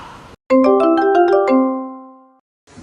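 A phone ringtone plays as a bright, quick run of chiming tones that then hold and slowly fade out over about two seconds, with quiet background noise before and after.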